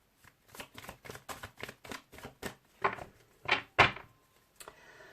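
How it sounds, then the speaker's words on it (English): Oracle cards from an Archangel Michael deck are shuffled in a quiet room, a run of about a dozen crisp riffling bursts, the last few louder and sharper, with no talking. "So these are my favourite oracle cards."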